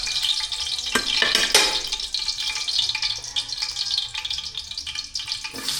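Ginger sautéing in a pan while mussels are being prepared, a steady bright sizzle with a few sharp stirring scrapes near the start, close and continuous with no talk.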